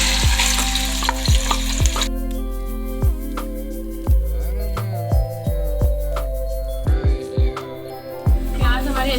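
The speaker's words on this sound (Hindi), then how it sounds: "प्याज हमारे अच्छे से फ्राई होने लगी, आप देख सकते हैं इसका कलर चेंज हो रहा है।" Onions fry in half a cup of hot oil in a large pot for a meat and potato curry, a steady close sizzle broken by repeated metallic knocks and scrapes from stirring.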